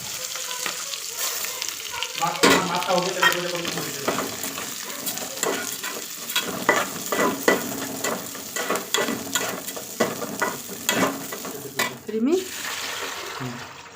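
Moong dal frying and being stirred in a pan on a home stove, with a steady sizzle broken by repeated scraping and clinking strokes of the utensil; a voice can be heard faintly in places.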